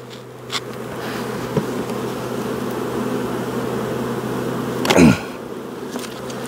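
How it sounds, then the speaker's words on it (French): Honey bees swarm and buzz around an open beehive colony in a steady close drone, joined by a louder passing bee near the end. "là il y a des abeilles"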